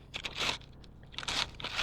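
Crunchy battered cod roe gives sharp, crackly crunches as it is bitten and chewed close up, in a few bursts with brief pauses between them.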